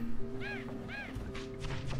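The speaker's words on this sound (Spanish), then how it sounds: "Está el pájaro tocho ahí, ¿eh?" A large bird caws in the action game Bastion, giving two short harsh calls close together over steady game music and ambient sound, with no talk.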